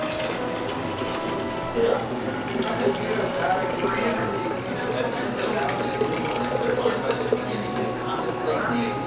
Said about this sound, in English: That's how you pour something.